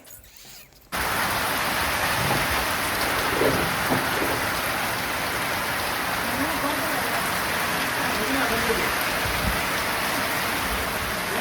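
Rain begins suddenly after a quiet second, then pours steadily and loudly on nearby surfaces, a dense, even hiss that continues to the end with a few faint low rumbles.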